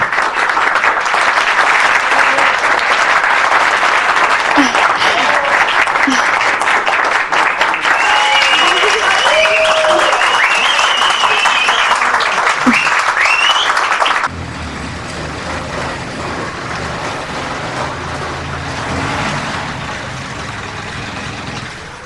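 Loud, continuous audience applause after a song on stage, with dense clapping and faint cheering for about fourteen seconds before it drops to a softer, steady crowd wash.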